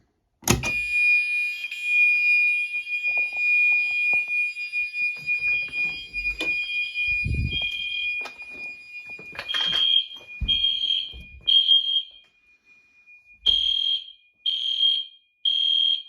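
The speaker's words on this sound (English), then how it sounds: "Fire alarm." A loud electronic fire alarm tone sounds continuously during a security system test, then pulses in short repeated bursts with brief gaps, with a few handling thumps underneath.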